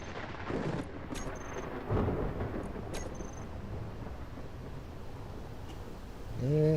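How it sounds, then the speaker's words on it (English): Thunderstorm in the Space Engineers video game: a steady rumbling wash of rain and wind with a few heavier thunder swells, broken by faint sharp clicks, and no voices over it. "Stormy."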